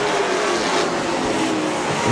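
Late model race cars roar around a track in a dense, continuous engine blare, loud and close, with no talk over it.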